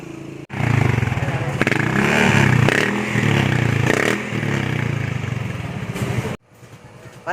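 A motorcycle engine with its exhaust being checked runs loudly and steadily up close, with some clattering, then cuts off abruptly near the end before briefly starting again.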